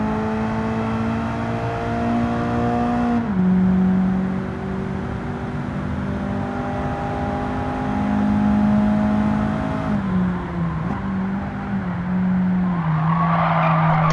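A Honda Civic Si Extra is driven in the Gran Turismo 7 racing game, its engine a steady loud drone that drops in pitch at each gear shift, with tire squeal and skidding over a continuous hum and no talking.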